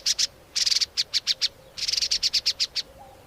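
Rapid bursts of high chirping honeyguide calls, chattering in quick clusters with short pauses, fairly close and clear over a quiet background.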